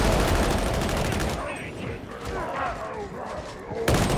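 Sustained suppressing fire aimed at enemy gunners in the video game Darktide on Auric difficulty. A dense, loud burst of shots fills the first second and a half, then fainter clatter and game noise continue.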